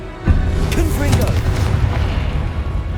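Hogwarts Legacy's Confringo explosive fire spell goes off as a single heavy boom, followed by a crackling, rumbling tail that lingers loudly for a couple of seconds.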